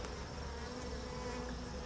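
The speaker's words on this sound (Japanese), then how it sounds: "はい、これが合同される方の蜂ですね。" Honeybees buzz steadily from a small hive colony being prepared for merging before winter, a dense continuous hum held close and even throughout with no voices.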